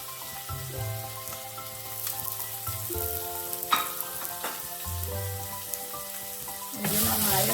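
Washed, chopped ginger sautés in a pan for Kerala-style puli inji curry, a steady close sizzle with intermittent stirring scrapes and light clinks throughout, and no talking.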